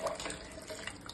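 Water trickles and splashes into a pot of rice being readied for arisi paruppu sadam, a faint, brief pour heard close up and alone.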